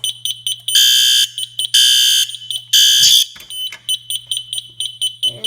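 A fire alarm system on a demo setup in a firehouse garage sounds after a pull station is activated: loud repeated electronic beeps in a fast rhythm, interrupted by three longer sustained tones, over a steady low hum.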